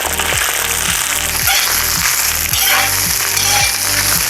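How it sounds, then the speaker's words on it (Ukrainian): Boiled chanterelle mushrooms fry in a cauldron, giving a loud, steady sizzle and crackle with rhythmic scraping or stirring strokes repeating about every half second. "Грибочки почали смажитись."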